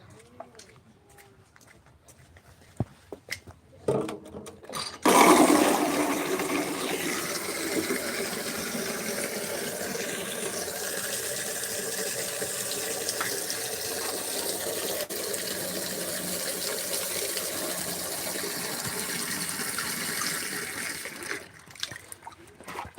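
Tap water runs steadily into a container for watering plants, a continuous rushing splash lasting nearly twenty seconds before stopping, close and fairly loud with no talk over it.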